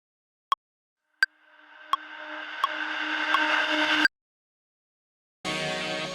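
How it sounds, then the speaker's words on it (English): A riser effect in a shoegaze mix leading into the second half of a chorus: a few sharp tonal pings, then a bright noisy swell that builds over about three seconds and stops dead, followed after a gap by a dense sustained wash. "the other effect that we pulled in was this like riser to come into the second half of that"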